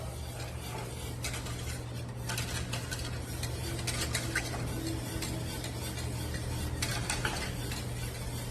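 Flour-thickened mixture stirred in a pot, scraping and swishing strokes in uneven bursts over a low steady hum, with light clinks of the utensil against the pot.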